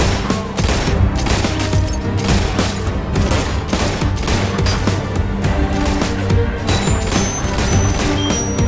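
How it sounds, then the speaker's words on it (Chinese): Dense, loud gunfire in a movie scene: a policeman fires wildly at pedestrians and at office workers in a financial tower, with rapid shots cracking continuously through the whole stretch. "紧接着他立即调转枪口，向对面金融大厦看热闹的职员疯狂扣动扳机。"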